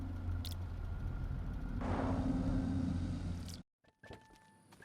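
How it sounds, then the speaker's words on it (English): A car in the survival road-trip game Overland drives off: a steady low engine rumble that swells into louder broadband noise, then cuts abruptly to near silence before faint tones return. "we pack into the car and move on out."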